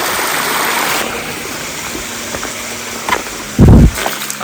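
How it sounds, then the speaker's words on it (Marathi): A shallow forest river flowing outdoors during the rainy season, a steady rushing wash of water close by, with a brief louder thump near the end. "पहा किती छान असं पाणी वाहत"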